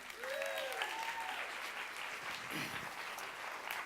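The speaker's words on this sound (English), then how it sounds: "another round of applause for Erin." Audience applauding and cheering for a performer named Erin, a dense, steady wash of clapping with a few shouts and whoops rising through it.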